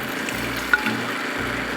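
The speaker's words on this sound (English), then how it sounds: "One method is by pouring it back and forth between two pitchers" Wine streams steadily as it is poured back and forth between two pitchers, a continuous close splashing rush.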